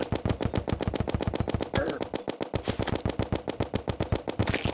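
Rapid automatic gunfire rattles without pause as a slime is shot at in Terraria, dense evenly spaced shots at close range throughout.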